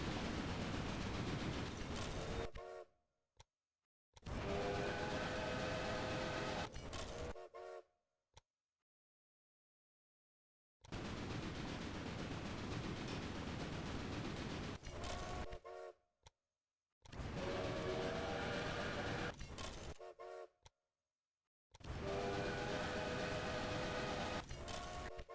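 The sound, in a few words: train sounds and horns in the video game Railway Empire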